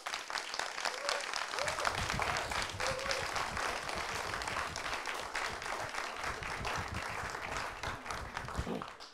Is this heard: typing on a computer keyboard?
no